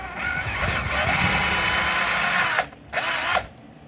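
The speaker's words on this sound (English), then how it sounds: "easier with the drill going." A loud power drill, used on a T-Maxx RC truck, runs steadily, then stops and briefly buzzes again before cutting off.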